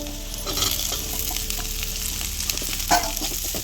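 Carrots and other vegetables sauté in a pan for street-style egg noodles, a continuous close sizzle with scraping stirs and a low steady hum from the stove underneath.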